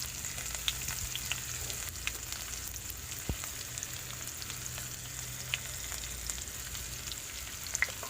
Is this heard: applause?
no